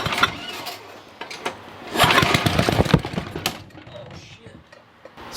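An old Ariens rear tine tiller engine runs with its tines engaged, a loud rough mechanical churning that surges and fades unevenly, close by, with bursts of rattling.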